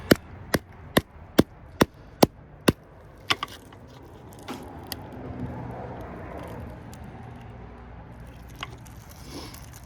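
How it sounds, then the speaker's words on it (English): A series of sharp, evenly spaced metallic taps from a light hammer on a copper transformer, about nine in quick succession, then quieter handling and scraping noises. "Just a light tap of the hammer."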